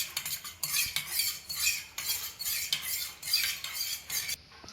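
A spoon stirs amla juice mixed with chaat masala, clinking against the glass or bowl in a quick, steady rhythm of close, bright metallic scrapes and taps, with no voices.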